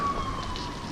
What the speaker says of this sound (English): I sure do hear fire sirens.